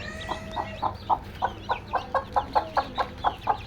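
Desi chickens on a small farm cluck in a fast, regular series of about a dozen close, fairly loud calls, one after another with no talk.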